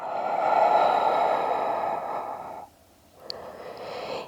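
A breath drawn in during a prenatal yoga exercise, a long airy inhalation that holds steady for a couple of seconds, cuts out, then resumes softer, heard close and alone with no talking.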